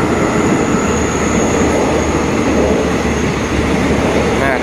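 Special express trains 38 and 46 pass beneath a bridge at a level crossing south of Ratchaburi station in Thailand, a loud, steady rumble of wheels and wagons that fills the whole stretch up close.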